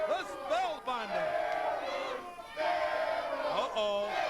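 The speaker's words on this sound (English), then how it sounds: "The crowd yelling steroids." A wrestling arena crowd in Memphis, Tennessee yells a rhythmic chant in loud, repeated bursts, with a commentator's voice speaking over the crowd noise.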